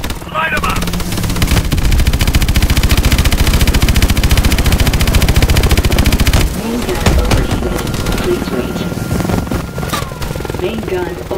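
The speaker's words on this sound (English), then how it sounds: "Main gun overheating. Cool down." Main gun firing continuously in Call of Duty: Advanced Warfare, a loud, rapid, unbroken mechanical rattle for several seconds that stops abruptly, followed by scattered explosions, distant shots and radio-style voices over the battle din.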